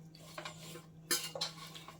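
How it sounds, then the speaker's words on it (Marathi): A fork scrapes and clinks over air-fried roasted coconut slices in a metal basket, a few quiet clicks and scratches with one sharper scrape near the middle, under a steady low hum. "तर इथे मी काटा चमचा घेतला आहे."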